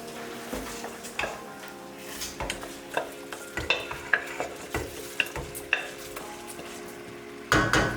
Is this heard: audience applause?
no